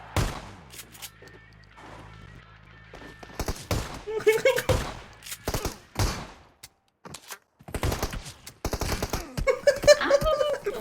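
PUBG Mobile gunfire cracks out in sharp, irregular bursts and single shots, mixed with thuds and clatter, while players talk and laugh over the action.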